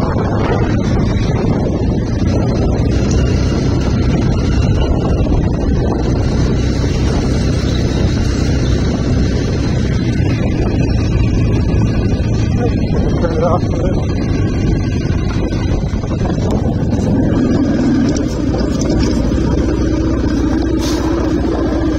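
A 2024 Beta Alp 4.0 motorcycle ridden with the rider standing on the pegs, a continuous engine drone mixed with heavy buffeting wind across the microphone for the whole stretch.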